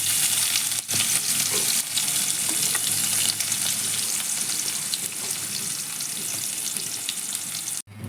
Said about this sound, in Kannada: ಸ್ವಲ್ಪ ಜೀರಿಗೆ, ಕರಿಬೇವು ಮತ್ತು ಒಣಮೆಣಸು. ಈಗ ಈರುಳ್ಳಿ ಹಾಕ್ಕೊತಾ ಇದ್ದೀನಿ.